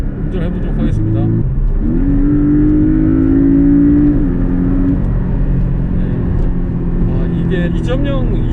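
A Porsche 718 Cayman with the 2.0-litre engine in sport mode with manual shifting, heard from inside as a loud engine drone that rises in pitch, levels off and falls, with someone talking over it throughout.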